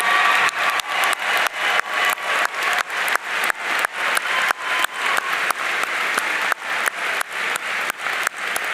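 An audience at a graduation ceremony gives sustained applause to military members standing in the crowd, a steady, dense wash of many hands clapping that continues without a break.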